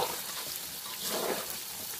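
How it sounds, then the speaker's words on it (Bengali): Chopped onions for biryani fry steadily in hot oil, a dense, continuous sizzle with faint stirring, held at an even level throughout with no voices. "সেই পেঁয়াজটা এখন ভেজে নিচ্ছি"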